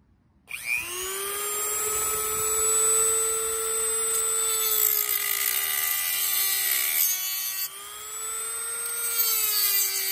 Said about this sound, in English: Try to Dremel this out.